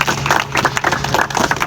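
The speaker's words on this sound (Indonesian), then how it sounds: "Sekali lagi beri tepuk tangan kepada beliau." An audience claps loudly and densely for a singer who has just performed a solemn patriotic song in a staged drama about the Youth Pledge. The applause is a continuous rush of claps throughout.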